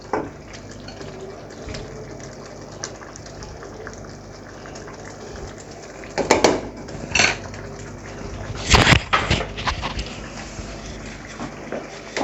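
Yogurt goes into a simmering spinach and mutton curry (palak gosht) in a home kitchen, steady cooking sizzle with a few loud clanks of a spoon against the pot and wet stirring splashes partway through.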